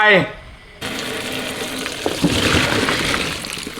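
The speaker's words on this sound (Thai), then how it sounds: "ล้างน้ำให้สะอาดอีกรอบหนึ่งนะครับ" Boiled mushrooms rinsed under a running tap, with a steady broadband splash of water that starts abruptly after a brief clatter and continues close and fairly loud throughout.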